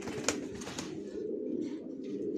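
Young original racer pigeons of a Johnson long line keep up a low, continuous rolling coo close by, joined by a few faint sharp rustles early on, with no talking.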